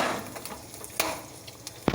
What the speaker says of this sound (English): Just let it sizzle.